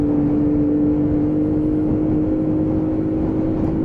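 A Lexmoto Aspire 50cc scooter engine drones at steady high revs under acceleration, a continuous buzzing whine close by with no talk.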